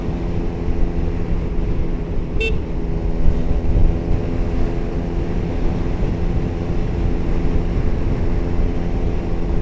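A two-stroke Kawasaki Ninja motorcycle engine with stock exhaust runs with a smooth, steady drone that stays even and fairly loud throughout.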